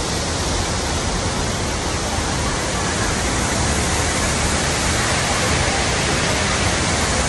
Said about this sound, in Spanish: Cascada y charco La Planta.